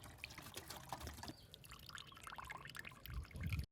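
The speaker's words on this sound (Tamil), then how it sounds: "சுத்தமான தண்ணியை வச்சு 2 வாட்டி ஊற்றி அலசிக்கலாம்." Clean water poured twice over strained milk curds held in a cloth to rinse them, for village-style rasgulla; a steady close splashing pour with trickling and dripping, no talking.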